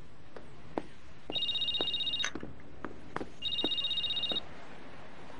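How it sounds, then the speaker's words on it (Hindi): A telephone rings in two bursts of rapid electronic trilling, separated by a pause, with faint clicks and knocks in the background. "मेहरबान आपा, आपका फोन आ रहा है।"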